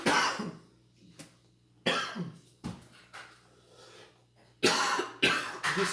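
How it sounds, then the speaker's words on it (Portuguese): A series of sharp coughs in separate bursts, close by, from a person with an allergy to a fan, with short pauses between them and a double cough near the end. "Desculpem pela essa tosse, é porque eu estou com alergia ao ventilador."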